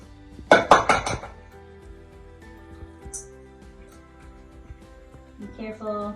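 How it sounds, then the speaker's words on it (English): Eggs being added to creamed butter and sugar in a mixing bowl while baking banana bread, heard as a quick run of clinks and knocks against the bowl, then quieter handling and a brief clatter near the end. "I'm going to add the eggs and the lemon juice"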